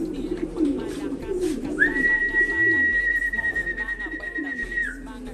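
Pigeons coo in low, soft, rolling calls close by, with a long steady whistle-like tone in the middle and a voice talking now and then.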